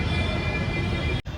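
A train pulls into a station with a loud, steady rumble that carries close by and then cuts off abruptly near the end.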